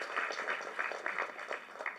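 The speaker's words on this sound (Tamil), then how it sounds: "கைத்தட்டுங்க." Audience clapping at a Tamil movie audio launch event, a steady wash of many hands at moderate distance, continuous through the moment with no voices on top.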